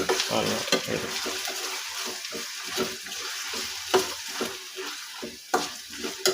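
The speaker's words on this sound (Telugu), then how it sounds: "ముందుగా మనం తరిగి పెట్టుకున్న టమోటాలు వేసుకొని కలుపుకోవాలి" Chopped tomatoes stirred into frying masala in a pan, a steady sizzle with repeated scraping strokes of the spoon throughout, close and fairly loud, with a trickle of water in places.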